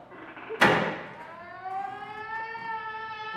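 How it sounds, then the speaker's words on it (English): A sharp bang is followed by a police car siren that winds up and holds a loud, rising wail. The siren stays steady and prominent to the end. "turn the siren wide open"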